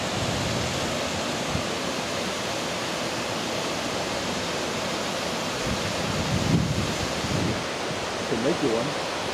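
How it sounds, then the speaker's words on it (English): Surf and wind at Mill Creek Beach make a steady, broad wash of noise, with a slight swell of waves near the end and no voices. "This is Mill Creek Beach."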